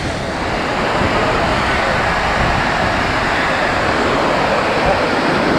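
The Yamuna river near Yamunotri rushes past at its clear upper reaches, a loud, continuous roar of flowing water close by, mixed with some wind buffeting on the microphone.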